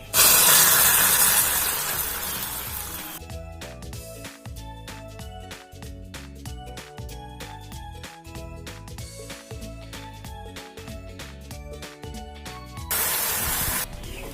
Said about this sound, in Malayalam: ഇനി നമുക്ക് ഇതിലോട്ട് തിളപ്പിച്ച ഒരു 1/4 കപ്പ് വെള്ളം ഒഴിച്ചു കൊടുക്കാം.